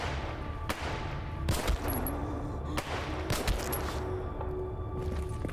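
Shotgun blasts from zombies in S.T.A.L.K.E.R. Gamma, several sharp reports scattered over a few seconds with a steady ambient bed beneath, some shots close and loud, others more distant.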